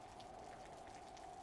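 Steady rain in the space survival game Osiris: New Dawn makes a faint, even patter with a constant hiss and no voices over it.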